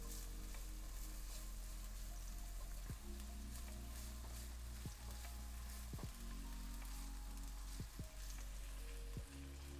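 Onions sizzle in a hot pan during a clam and pastina soup dish, a dense, even, rain-like crackle close up with a few soft knocks at intervals, and no voices.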